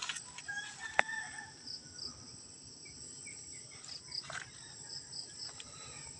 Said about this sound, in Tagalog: Tapos lang magpakain ng mga manok guys